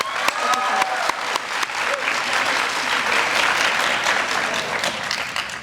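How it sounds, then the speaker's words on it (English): Graduation ceremony audience breaking into loud, sustained applause, dense clapping filling the whole stretch with a few scattered cheers mixed in. "I want to begin by giving a round of applause to all the families, teachers, friends, and of course pets"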